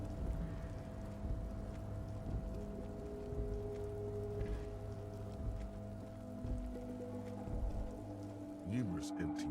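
Steady rain patters continuously in the video game Disco Elysium, a soft hissing wash over low ambient drones, with a few faint tonal sweeps near the end.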